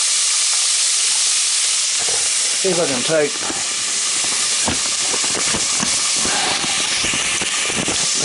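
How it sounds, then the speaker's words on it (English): Oysters fry in a loud, continuous hiss and sizzle for oyster burgers, while someone speaks briefly over the noise partway through. "Got the oysters frying over here."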